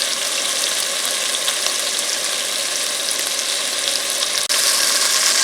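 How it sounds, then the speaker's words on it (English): Chicken pieces sear in a cast iron pan for Filipino adobo, a steady loud broadband sizzle holding the whole time with one brief dropout near the end, no voices. "So our second batch is pan seared, almost fully cooked, not quite."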